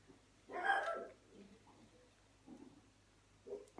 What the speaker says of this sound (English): The dog put me off train of thought now.